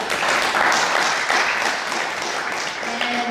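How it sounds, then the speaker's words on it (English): Audience applause at a Marist College event welcoming a speaker: a dense, steady wash of many hands clapping at close range, holding loud throughout with a faint tonal hum near the end. "So let's clap it up for Dr. Yo."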